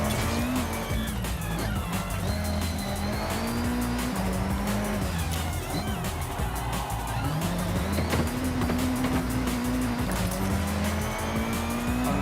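Tires squeal loudly and continuously as an all-wheel drive car drifts in a racing video game, the engine droning steadily underneath with rising and falling pitch.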